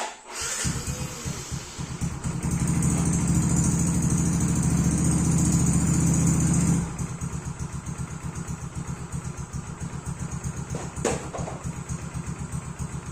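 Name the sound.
Yamaha X-Ride scooter engine being revved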